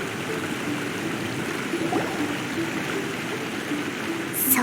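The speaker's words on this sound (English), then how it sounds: "Look over there. That's him at the waterfall." Rushing water from a waterfall in Genshin Impact makes a steady, even hiss of flowing water, moderately loud and continuous, with a faint tone or two over it and no speech.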